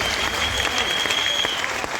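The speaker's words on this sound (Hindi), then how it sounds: "एक बार ताली बजाइए और आनंद लीजिएगा।" An audience at a Hindi poetry gathering in Panipat claps, giving dense, steady, close applause that lasts the whole moment.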